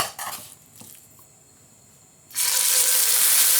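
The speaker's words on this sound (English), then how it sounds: "Let's put these steaks in to cook." Steaks for Steak Diane go into a hot, oiled pan. A few quiet clinks come first, then a sudden loud, continuous sizzle that carries on steadily to the end.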